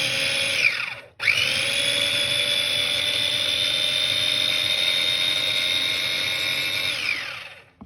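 A blender motor whines steadily through a batch of venison steak ingredients, cutting out once after a short first pulse and then running loud and unbroken for several seconds.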